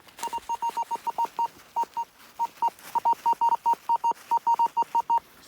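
A metal detector's signal tone during a search for old coins and relics, heard as a rapid, uneven series of short, identical, clear beeps, close and loud, with no talking.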